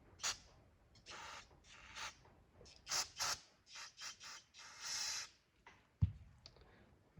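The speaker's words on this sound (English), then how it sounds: "I will spray this one off because it is pretty dirty." Several short bursts of spraying hiss, irregular in rhythm, up close, cleaner sprayed onto dirty RC crawler gear, with a sharp clack near the end.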